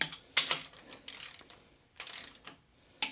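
Torque wrench ratcheting while snugging the main bearing caps on a 1970-71 small-block Chevy 350 during crankshaft installation: four quick, close bursts of clicking with short quiet gaps between them, no talk.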